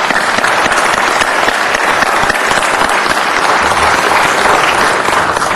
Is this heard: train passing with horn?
no